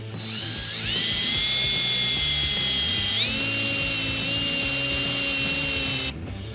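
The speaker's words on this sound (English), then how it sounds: "Take this Reamer, you just kind of run it through there with a drill bit." A high-pitched drill whines steadily running a reamer bit through a bolt hole, its pitch stepping up partway through, then cutting off abruptly near the end.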